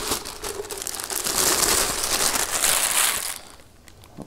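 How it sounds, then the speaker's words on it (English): Plastic packaging crinkles and rustles loudly and close up as a Scentsy Retro Road Less Traveled RV warmer is pulled free, a dense crackling run that eases off near the end. "Get out of the plastic here and we'll take a look."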